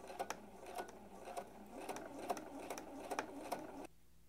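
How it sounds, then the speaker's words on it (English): A sewing machine running a long basting stitch along a raw fabric edge for a flat collar, with a steady mechanical whir punctuated by evenly spaced needle clicks, close and fairly quiet, stopping abruptly near the end. "So I'm just gonna quickly do a basting stitch, which is the longest stitch on your machine, just on that open raw edge."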